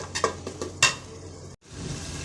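Potatoes lightly frying and being stirred in a pan for a chicken and potato curry, with a few clinking spoon scrapes early on, then a soft steady sizzle after a short gap.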